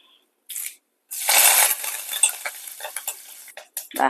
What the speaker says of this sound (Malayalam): എണ്ണ ചൂടായി ഇനി നമുക്ക് കടുകിട്ട് കൊടുക്കാം അര ടേബിൾ സ്പൂൺ കടുക് രണ്ട് വറ്റൽ മുളക് ഇട്ട് കൊടുക്കാം നമുക്ക് കറിവേപ്പില ഇട്ട് കൊടുക്കാം